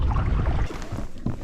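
Paddle strokes from a kayak splash and swish on open water, loud and close at first, then trailing into softer dripping and wind noise, with no talking.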